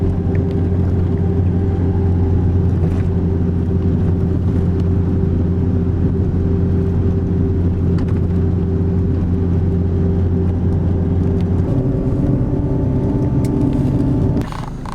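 A tour bus engine drives steadily near Putre, Chile, en route to Parque Nacional Lauca, a loud continuous low droning rumble with a slight shift in pitch near the end as it eases off.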